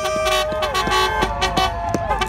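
A vehicle horn honks in short repeated toots on a busy Broadway street, loud and close, with traffic rumbling underneath.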